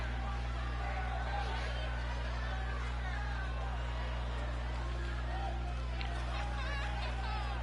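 A wrestling show crowd murmurs in a low, continuous babble heard from a distance, with scattered chuckles rising out of the hum and no single voice standing out.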